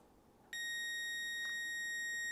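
A Snap-on tester probing the positive wire of a door lock actuator gives a steady, piercing high electronic beep that starts abruptly and holds, with a brief dip partway through.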